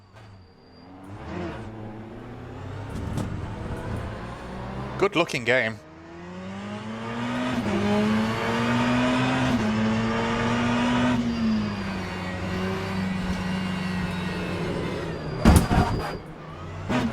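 Race car engine in the Le Mans Ultimate sim racing game, rising and holding a strained high whine through acceleration and gear changes, with someone briefly speaking over it.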